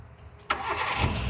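A used car engine with about 85,000 km cranks briefly, then catches and settles into a steady idle.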